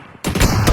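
Free Fire gunfire breaks out abruptly after a short quiet moment, a dense, loud burst of rapid shots that continues to the end.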